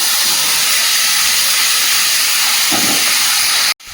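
Marinated chicken hits a hot pan with dried red chillies and whole cumin, setting off a loud, continuous, hissing sizzle that holds steady before stopping abruptly near the end.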